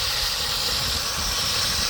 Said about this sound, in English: And that noise is the water refilling.